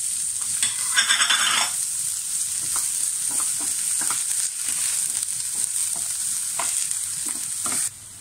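Garlic, green chili and ginger frying in a pan, producing a loud steady hiss close by with a burst of metallic clatter early and light stirring taps throughout, no voices.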